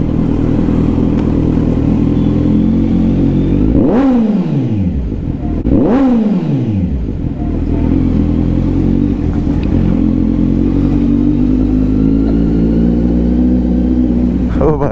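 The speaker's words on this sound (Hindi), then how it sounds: "और अभी ज्यादा रेस नहीं दे रहा हूँ मैं, बहुत हल्की हल्की रेस दे रहा हूँ" A Kawasaki Z900 superbike engine idles loud and close, then gets two light revs that rise and fall in quick succession before settling back to a steady rumble.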